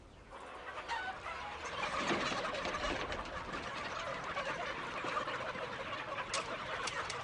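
Broiler chickens crowded inside a dark chicken house give a dense, continuous chorus of clucks and calls that holds steady throughout at moderate loudness.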